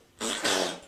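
A single short, breathy burst of a sneeze, close and fairly loud, with no talking around it.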